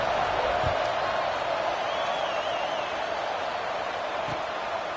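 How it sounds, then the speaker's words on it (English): A college football stadium crowd roars and buzzes after a score, a constant loud wash of cheering voices filling the whole stretch without a break. "this crowd is buzzing after that last score"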